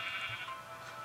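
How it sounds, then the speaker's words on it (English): A sheep in the blocky survival game Minecraft gives a short, fairly faint bleat amid soft ambient game sound. "Look at all these sheep, and then the one cow."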